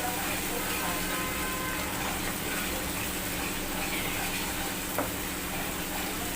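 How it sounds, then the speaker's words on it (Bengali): Spice paste with cumin powder sautéing in hot oil for a hilsa fish curry gives a dense, steady sizzle that carries unbroken throughout, with one faint click near the end. "দিয়ে মশলাটাকে ভালো করে কষিয়ে নেব"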